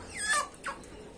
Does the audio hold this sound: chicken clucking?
yes